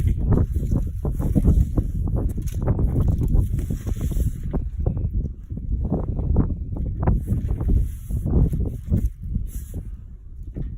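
Strong wind buffeting outdoors, a continuous rough low roar with gusty swells that persists throughout, loud and close to the microphone, with no voices.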